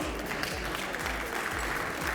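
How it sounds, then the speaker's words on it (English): An audience at an awards ceremony applauds steadily, dense clapping sustained throughout at moderate volume with no talking. "Give her a round of applause, please."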